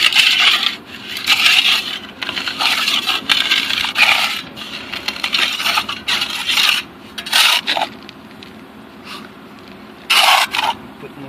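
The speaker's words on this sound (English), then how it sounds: "I'm going to use a trowel to cut the mortar back, indexing it off the curb." A steel trowel scrapes and cuts fresh mortar back along a concrete curb during a cold-joint repair, giving steady close rasping strokes with short pauses, loud and without speech.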